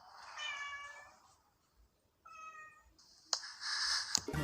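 A cartoonish cat in the horror video game EYES meows twice in clear, drawn-out tonal calls separated by a short silence, followed by a sharp clicking burst and a brighter rising yowl, all fairly quiet with no talk.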